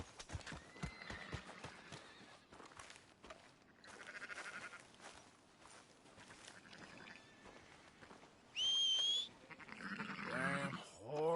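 A horse in Red Dead Redemption 2 clip-clops along, then lets out a loud, shrill neigh near the end, with a softer whinny just after.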